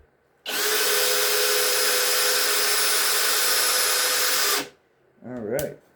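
A Flex FX1151 drill driver on speed 1 drives a 4-inch screw through wood in one loud, steady whine lasting about four seconds, then stops abruptly and a voice follows.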